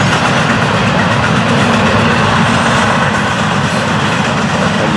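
Freight train FEC210 rolls past close by, a loud, continuous rumble and clatter of wheels and cars filling the whole stretch with no voices.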